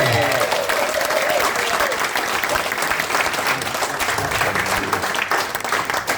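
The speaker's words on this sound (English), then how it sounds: "this is with the first round of applause of the evening" An audience at an awards evening claps steadily throughout, a dense, even wash of applause from a roomful of people, with a voice faintly underneath.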